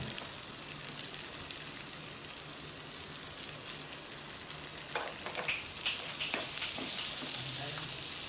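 Finely chopped onion sizzles in a pan with fried chilli for garlic butter chicken, a steady dense crackle that swells louder, with a few stirring scrapes mixed in.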